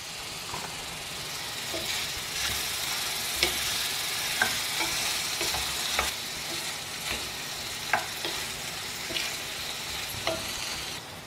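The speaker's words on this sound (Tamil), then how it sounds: "சேர்த்து விட்டு நல்லா வதக்கணுங்க." Ridge gourd chutney ingredients sauté in a hot pan, giving a steady close sizzle and frying hiss broken by sharp stirring scrapes and clicks at intervals, with no voices.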